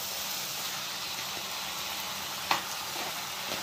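Chicken pieces go into a hot pan of curd, setting off a loud, steady sizzle and frying hiss, with one sharp clatter partway through.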